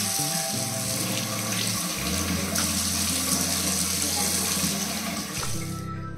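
Cold tap water runs into a sink while a face is washed, a loud, continuous splashing rush with a low hum, the flow shifting briefly as hands move through it.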